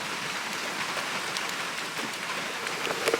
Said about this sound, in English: we've been having rain showers